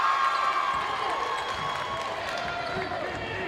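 A boys' high school basketball tournament crowd, with the Stockton student section, roars and cheers steadily in a large gym, a continuous dense din under the announcer's commentary.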